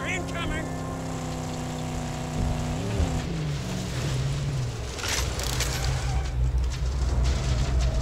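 A car drives in the post-apocalyptic video game Mad Max, its engine a steady mid-level drone that shifts pitch partway through, heard alongside game music and effects.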